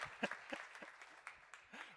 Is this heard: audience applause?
yes